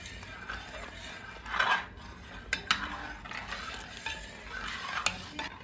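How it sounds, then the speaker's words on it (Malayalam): A metal spoon stirs mango payasam with jaggery and sago in a pot, making scraping strokes and sharp clinks against the sides over a low background hum. "എന്നിട്ട് നല്ലതുപോലെ ഇളക്കി കൊടുക്കണം."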